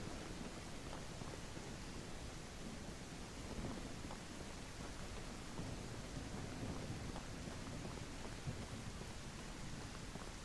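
Stormy ambience in the video game Outbreak Island: a steady, loud wash of rain-like noise with a low rolling rumble of thunder underneath, continuous for the whole stretch with no voices.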